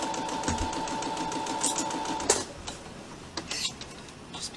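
A sewing machine stitches fabric for a face mask with a fairly tight 2 mm stitch, a rapid rhythmic mechanical whir that runs steadily then stops, leaving a few soft handling clicks and rustles.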